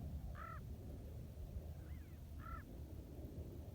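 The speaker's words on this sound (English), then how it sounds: "That was a crow. That was a crow. Or a raven." A crow or raven caws three times in the distance, faint against a low rumbling background, with no voices.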